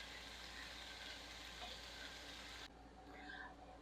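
Ground beef and onions cook in a pan with a soft, steady sizzle that runs the whole time, faint and close, with a slight change in tone near the end and no one talking.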